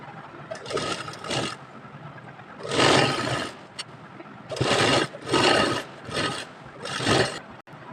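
A sewing machine runs in several bursts while stitching the side seam of a baby girl's top, each run a loud whirring drone separated by short pauses, with no talking.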